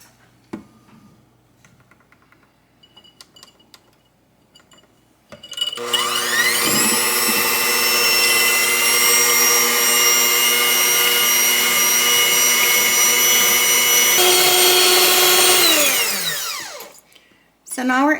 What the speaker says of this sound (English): we're going to add our egg whites to our big mixing bowl. And then we're just going to beat them until they change color and are foamy